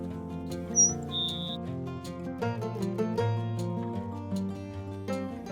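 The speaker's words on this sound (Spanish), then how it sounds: "este cachilo ceja amarilla, que seguramente marcaba sus dominios con su trino" A yellow-browed sparrow in the Argentine pampas gives a couple of brief, high trilled notes early on, faint over a steady musical background.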